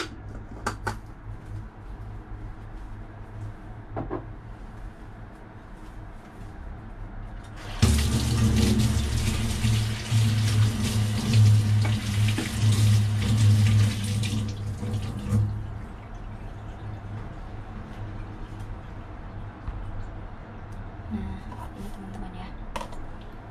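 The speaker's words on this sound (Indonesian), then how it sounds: "Kita masukkan air panas." Hot water poured steadily from a kettle into a cup for Dalgona coffee, a loud splashing stream lasting several seconds amid quieter kitchen handling sounds.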